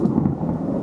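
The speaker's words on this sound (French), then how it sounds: "Merci l'orage." Thunder rolls through a storm as a deep, continuous rumble that stays loud and steady for the whole moment, with no voices over it.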